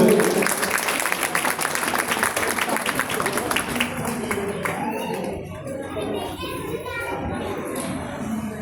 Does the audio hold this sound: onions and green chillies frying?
no